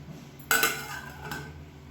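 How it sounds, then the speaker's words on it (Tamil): A metal lid is set onto a pot of thuthuvalai rasam, giving a sharp clink followed by a softer second clatter against a steady kitchen background. "இப்போ அப்படியே மூடி வச்சிடலாம்"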